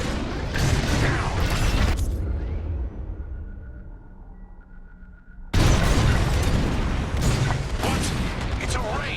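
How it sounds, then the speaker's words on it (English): Bombs exploding in the Star Wars Squadrons space combat game, with dense booming blasts for two seconds, a quieter lull with a faint tone, then a sudden loud resumption of heavy explosive rumble and crackle. "It's bombs away."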